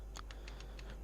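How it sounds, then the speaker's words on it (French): Keys on a PC keyboard are pressed in preparation for a game's final boss fight: about half a dozen light, quiet clicks tap out at an uneven pace, close and alone without talk. "Là, j'appuie sur mon clavier, je me prépare les doigts."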